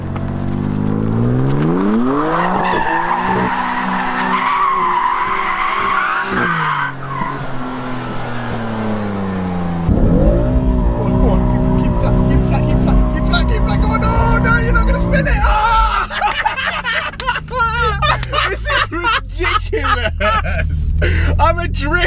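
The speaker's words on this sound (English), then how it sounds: "that's the sickest drift ever" New BMW M3 drifting, with long tire squeals and skidding over a revving engine that climbs, drops and climbs again, close and loud, while excited voices talk and shout over it.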